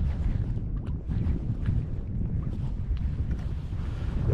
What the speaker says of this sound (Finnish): Idästä tuulee noin pari metriä tällä hetkellä.